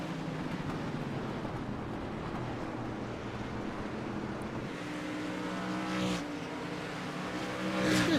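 Street stock race cars at Oswego Speedway, a short 5/8 mile track, in the iRacing video game: a steady roar of engines from a distance with a pass swelling near the end, heard alone.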